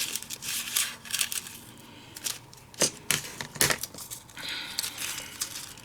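Scissors snip through a sticky foam sheet for card making, a few sharp cuts and crinkles spread across a quiet tabletop scene, with soft handling rustles between them.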